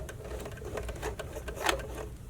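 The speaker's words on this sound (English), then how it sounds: "I'm going to stitch across" Home sewing machine running a steady line of stitches across bra fabric, a continuous close mechanical whir with rapid needle clatter and slight swells in speed.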